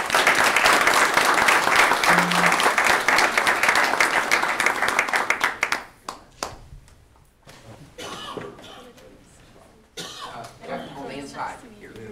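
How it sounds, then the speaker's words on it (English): A crowd at a tribal council meeting gives a loud round of applause for about six seconds, then it dies away into scattered coughs, throat clearing and murmured voices. "Give them a big round of applause."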